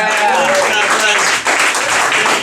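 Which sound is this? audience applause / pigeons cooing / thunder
audience applause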